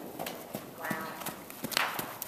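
Horse ridden bareback with no bridle or bit, hooves clip-clopping in an uneven rhythm at moderate distance, with voices talking faintly beneath.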